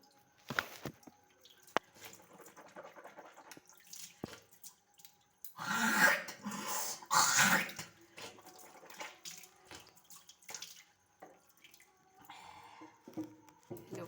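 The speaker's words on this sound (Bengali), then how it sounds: "এবার আমি একটু মুখ ধুয়ে নিই" Tap water runs and splashes in short bursts as someone washes their face at a sink in a morning routine, with a louder spell of running water in the middle and small drips and handling noises around it.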